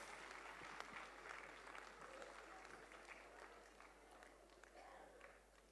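Applause from the audience at a medical college convocation and degree ceremony, a soft, distant patter of clapping that holds steady for several seconds with crowd murmur beneath it.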